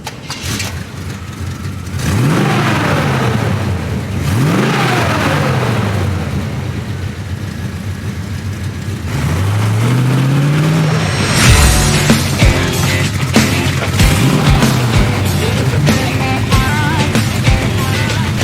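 A lifted 1988 Chevy K1500 Silverado monster truck starting up and revving, several loud, deep engine swells rising and falling over a rough idle, close and alone.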